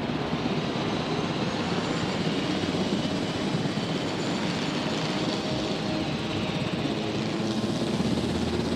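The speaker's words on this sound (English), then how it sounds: "I'm gonna have the helicopter on standby" Steady, dense rotor and engine drone of a helicopter in the park-management game Jurassic World Evolution, continuous and even throughout, filling the whole clip without talk.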